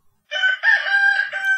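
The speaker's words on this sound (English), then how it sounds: "A rooster." A rooster's cock-a-doodle-doo crow from a kids' music game app for preschoolers, one clear, loud, sustained call with a short break partway through, heard alone with no talking.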